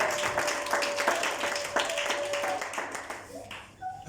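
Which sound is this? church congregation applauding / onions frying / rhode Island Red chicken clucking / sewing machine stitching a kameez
church congregation applauding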